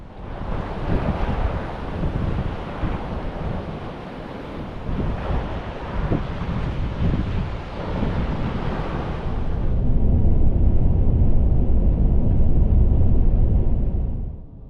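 Wind and ocean surf roll in at Scott's Beach in Fowlers Bay Conservation Park on the Nullarbor, a loud, steady wash of breaking waves with heavy wind buffeting that swells stronger toward the end.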